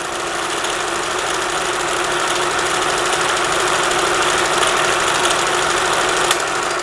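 A vintage Kenmore sewing machine winds a bobbin with a steady, fast, whirring motor hum that stays even and close throughout, with no speech.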